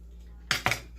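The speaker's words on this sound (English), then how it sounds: "So crispy. I'm going to cut it in half." A knife cuts through a crispy phyllo dough pastry, giving two quick close crunches with a short gap between them, then stillness.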